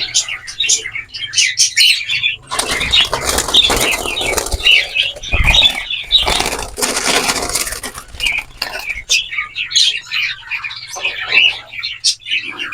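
Young zebra finches chirping in quick high tweets, with bursts of close wing flapping and rustling in the middle, while a person talks throughout.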